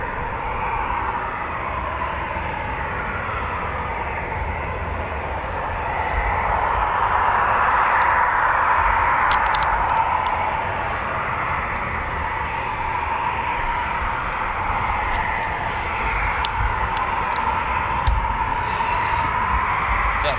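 Eurofighter Typhoon FGR4 on a performance departure at RAF Coningsby, heard as a loud, sustained broadband jet roar that swells around the middle and then holds steady as the aircraft climbs away, with no talk over it.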